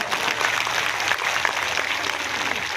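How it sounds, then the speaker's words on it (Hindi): Audience applause at a Hindi-language political gathering in Uttar Pradesh, a dense, steady wash of clapping from a crowd that stays at an even level throughout with no speech over it. "उनके नाम पे जरा जोरदार ताली बजा करके स्वागत करें"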